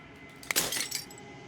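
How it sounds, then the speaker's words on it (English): In the video game Slay the Princess, a single crisp burst of glass shatters, bright and close, with tinkling fragments scattering for a moment before the sound fades to quiet. "As the final fragment of glass shatters"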